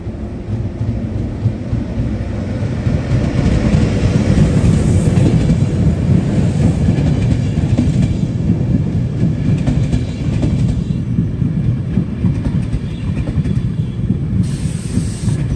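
A train pulls into a platform at Vienna's main station, Wien Hauptbahnhof, with a loud, sustained rumble and rolling wheel noise lasting the whole stretch, joined by brief hissing near the end.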